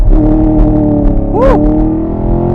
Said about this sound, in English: Okay, now out on the road in the Camaro, sport mode, ESC competitive, manual launch.